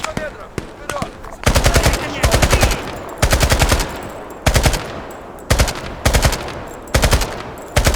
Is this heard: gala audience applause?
no